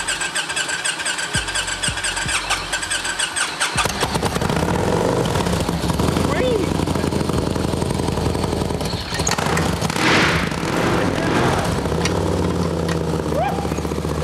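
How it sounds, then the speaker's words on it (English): A loud supercharged, intercooled motorcycle engine runs steadily after a quieter start, with a rough, throaty rumble and a high supercharger whine layered on top, close by and sustained. "Sounds like you got the blower started."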